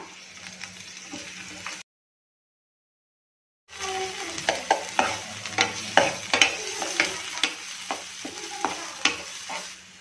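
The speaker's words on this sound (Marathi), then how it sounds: "आता आपण ऑइल घातलेले आहे, त्याच्यामध्ये आपण 1 चमचा जिरे घालून घेणार आहोत। बारीक चिरलेला लसूण, बारीक चिरलेला कांदा" Cumin, chopped garlic and onion sizzle in hot oil for pasta, a continuous close crackle broken by a short silent gap, with scraping stir strokes and small pops once the frying resumes.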